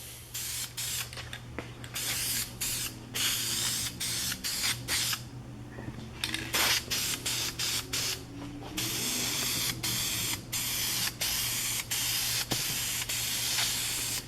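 Spray paint hisses in repeated short bursts onto a Ford E150 van engine cover and its latches, with a steady low hum running underneath and no talking.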